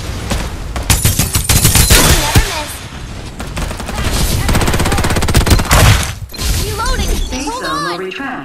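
Rapid bursts of video game gunfire crackle and rattle loudly, with shatter-like impacts and mechanical clicks, while voices call out over the action.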